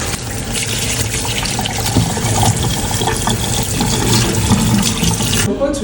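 Tap water runs steadily into a kitchen sink while hands are washed, loud and close, with some splashing. A voice can be heard faintly underneath, and the water stops at the end.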